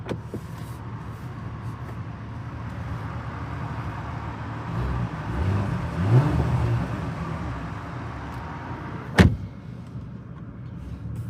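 A 2024 Porsche Macan S in normal exhaust mode runs with a low engine hum that swells briefly as it revs, then settles, with a sharp click or thump near the end.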